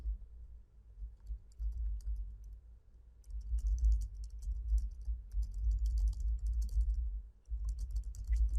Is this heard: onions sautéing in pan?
no